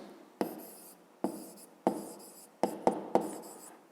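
Pen or chalk writing by hand in a physics lesson, a series of separate scratchy strokes spaced through the stretch, each starting sharp and trailing off, fairly close with no talk over them.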